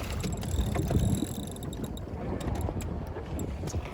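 A boat motor runs steadily near a Croatian island coast, a continuous low rumble mixed with wind and water noise, with no talking over it.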